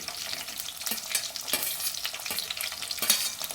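Green chilies crackling and sizzling in hot oil in a pan for chicken curry, a close, continuous frying hiss with scattered sharp pops and light stirring.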